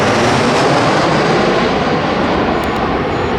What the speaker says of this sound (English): the airplanes come by here like